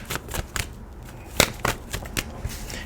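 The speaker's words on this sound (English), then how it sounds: "Cards is getting mixed up." A deck of tarot cards being shuffled by hand: a quick run of crisp riffles and soft slaps, close and clear, with no voices.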